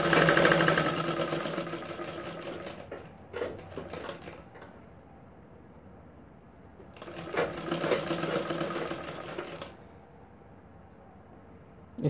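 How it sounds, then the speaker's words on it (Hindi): A sewing machine stitching blouse lining to fabric runs in two bursts of rapid needle whirring, starting loud, pausing with a few soft clicks, then resuming briefly before stopping, near and without speech. "इस प्रकार से आप अस्तर और कपड़े को एक बराबर जमाते हुए इसमें सिलाई लगाएंगे"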